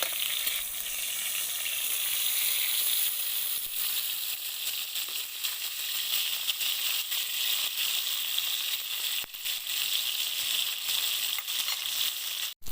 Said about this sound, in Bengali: তো বেগুন ভাজা এদিকে হয়ে গিয়েছে।